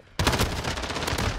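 Rapid automatic gunfire in Call of Duty: Modern Warfare bursts in sharply after a short quiet lead-in, a dense, loud rattle of shots carrying on steadily with no voices over it.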